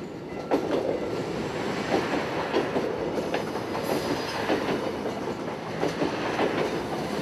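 A train runs along a coastal railway, a steady rolling rumble with faint rhythmic wheel clatter, sustained and moderately close with no talk.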